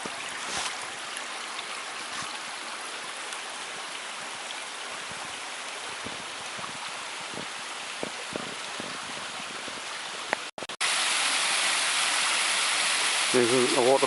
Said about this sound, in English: This isn't a waterfall we're going to, but still a nice little waterfall nonetheless.